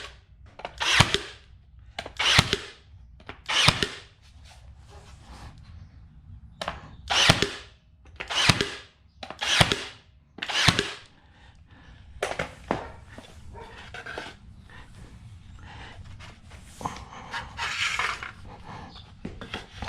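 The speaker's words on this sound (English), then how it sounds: "inch crown staples just to attach these cross pieces" A crown stapler tacks wooden cross pieces onto a frame for a goat pen, firing about a dozen sharp, loud pops at uneven intervals with quieter handling noise between.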